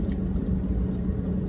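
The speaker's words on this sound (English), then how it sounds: "If you hear the AC, sorry, it's got to stay on." Car air conditioning runs inside a hot truck in the desert, a steady low rumbling hum and whoosh with no other sound.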